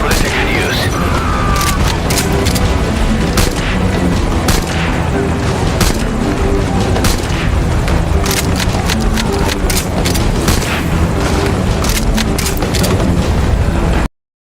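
In the Metal Gear Solid V video game, a rifle's underbarrel grenade launcher booms amid heavy gunfire. The shots and explosions come loud and dense as a near-continuous barrage throughout.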